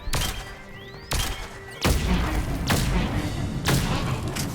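Grenade explosions from the Mass Effect 3 multiplayer shooter, four or five heavy booming blasts landing about a second apart, each a sharp broadband thud with a rumbling tail, loud and close over a steady noisy game background.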